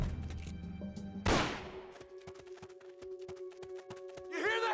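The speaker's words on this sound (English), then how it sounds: "You hear that? Gunshots!" A burst of gunfire in the Metal Gear Solid: Peace Walker video game comes as a quick run of sharp, cracking shots over game music and ambience, after one heavy blast.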